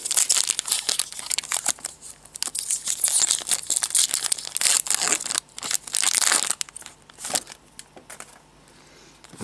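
A Pokémon card booster pack from a Plasma Explosion display being torn open, with loud close crinkling foil and ripping in bursts over several seconds, easing off toward the end.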